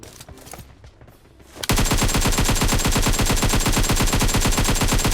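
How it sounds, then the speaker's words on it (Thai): An AK rifle in PUBG Mobile, fired without recoil control: after a quieter opening, a loud, continuous full-auto burst of rapid gunshots starts abruptly and runs without a break to the end. "ผมจะลองยิงให้ดู AK แบบไม่คุมปืน"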